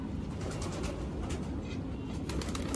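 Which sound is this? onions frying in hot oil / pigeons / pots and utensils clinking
pigeons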